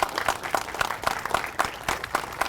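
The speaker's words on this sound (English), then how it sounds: "Let's give Hope a round of applause." Audience applause at a veterans service office ribbon-cutting in Hope, Arkansas: a dense, steady wash of many hands clapping, fairly close and continuous, with a few louder individual claps standing out.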